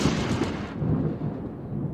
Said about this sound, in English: The end of a hot summer day is often decided by heavy thunderstorms.